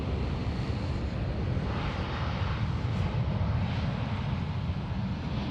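Qantas 12 airliner inbound from Los Angeles arriving at Sydney Airport, a continuous broad jet engine roar at moderate distance, steady with slight swells, no talk.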